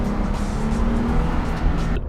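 A Jeep Gladiator Mojave with its 3.6-liter engine gives a loud, close, steady engine drone that holds throughout and then cuts off abruptly at the end.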